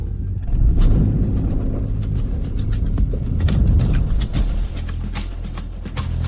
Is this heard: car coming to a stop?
yes